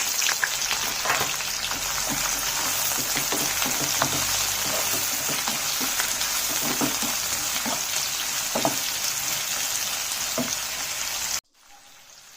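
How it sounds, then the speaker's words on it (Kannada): Two medium-sized onions frying in a spoonful of oil in a pan, a steady close crackling sizzle with faint stirring clicks that cuts off abruptly at the end. "ಈರುಳ್ಳಿ ಚೆನ್ನಾಗಿ ಫ್ರೈ ಮಾಡ್ಕೊಳ್ಳೋಣ."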